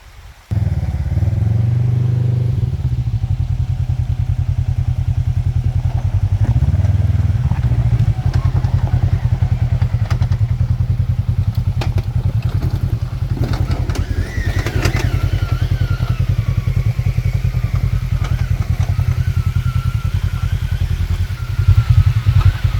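A Polaris RS1 side-by-side grinds up a slick waterfall, its engine a loud, steady drone held throughout with bursts of revving and clattering near the end.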